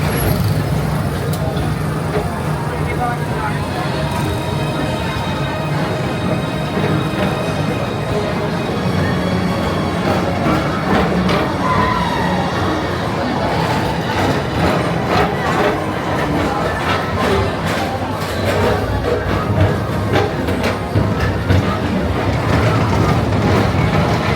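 A Tomorrowland Transit Authority PeopleMover ride vehicle glides along its track at night, producing a continuous loud rumbling whir with faint rattles and distant park ambience throughout.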